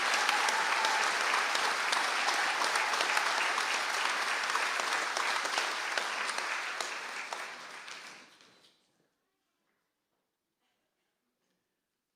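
Sustained audience applause for graduates at a conferring ceremony in Mayo, a dense even patter of many hands filling the hall for about eight seconds before fading out into silence.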